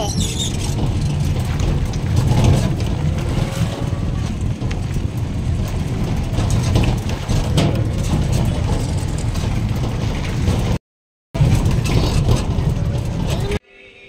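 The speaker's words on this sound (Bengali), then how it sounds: "এই দেখুন ধান কাটার মেশিন দিয়ে ধানগুলোকে কাটা হচ্ছে" A paddy harvesting machine cutting rice in a village threshing area runs with a loud, steady engine drone throughout, with people talking over it and a brief dropout near the end.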